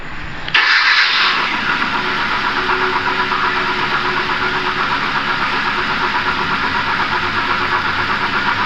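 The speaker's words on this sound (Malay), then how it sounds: "Oke, coba start engine." A 2011 Kia Forte engine cranks and catches, then runs unevenly with a rough, stumbling idle and a misfire-like coughing rhythm, loud and close, with no talk over it.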